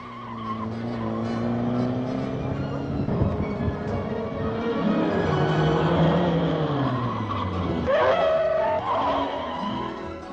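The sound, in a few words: police car skidding on oily skid pad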